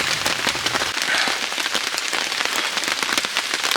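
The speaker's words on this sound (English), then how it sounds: "Still heavy rain that you'll no doubt hear throughout the day" Heavy rain pours down steadily, a dense, loud patter on surfaces that continues without pause and with no voices over it.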